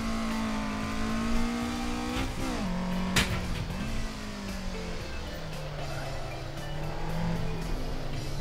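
A race car in a video game revs hard through the gears, the engine note climbing and dropping as it shifts, with a brief tire squeal partway through.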